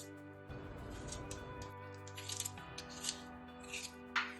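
Potatoes being peeled for crispy potato sticks, giving rough scraping strokes that come in short, uneven bursts close to the mic, with a steady low hum underneath.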